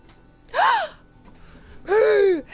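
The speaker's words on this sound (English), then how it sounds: "Heavy breathing." Two long, heavy breaths from a character in a Genshin Impact story quest, each a strained, gasping exhale rising and falling, separated by a short pause, close and clear.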